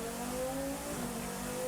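A KTM X-Bow race car pulls out of the pit lane during a 3-hour GT endurance race at Slovakia Ring, its engine humming steadily at moderate distance with a continuous droning tone and no voices.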